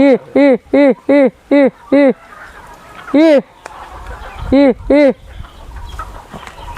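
Birds calling as they approach near Kasheli in Rajapur, a series of loud, close, clucking fowl-like calls in a quick run of five, then scattered single calls, with faint background sounds between.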